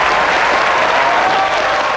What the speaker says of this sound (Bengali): আর জোরে একটা হাততালি।